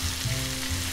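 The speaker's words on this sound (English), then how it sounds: "So I'm going to add that into the pan" Sausage, shallot and sweetcorn mix sizzling in a pan with drained pasta, a close, steady frying hiss with low pulsing bubbles and a faint hum, no voices.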